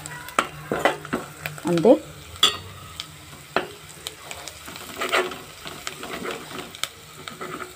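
Sliced bitter gourd stir-fries with coriander in a pan, with a low steady sizzle under scraping spatula strokes and several sharp clacks against the pan. A voice speaks a single short word partway through.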